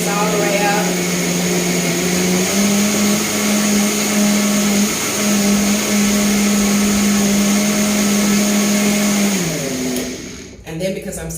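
A blender whirs steadily for about ten seconds as it purees cashew milk with bananas, its loud motor drone holding an even pitch before winding down near the end.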